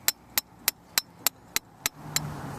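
A metal rod hammered into the ground for a water bottle rocket launcher, eight sharp evenly spaced strikes close by, the final blows softer and followed by a faint scraping rustle.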